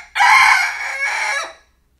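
A Rhode Island Red rooster crows loud and close in one full cock-a-doodle-doo, a sharp rising opening that breaks into a long held, slightly falling note, heard alone.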